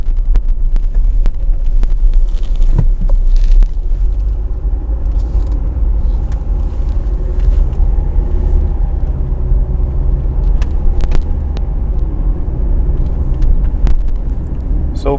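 A 2012 Volvo V70 D3 diesel car with the D5204T3 engine, just repaired for a boost leak, driving along with a steady low engine and road rumble, light wind noise and a few knocks from the cabin.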